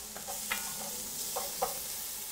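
Garlic sizzling in a churrasco carreteiro pan as it is stirred, with a soft steady frying hiss and a few brief scraping stir strokes, fairly quiet and with no voices.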